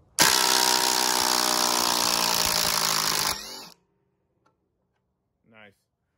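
A Ryobi or Dewalt impact driver drives a lag bolt into wood, hammering loudly and steadily for about three seconds before stopping abruptly, followed by near silence and a brief faint voice.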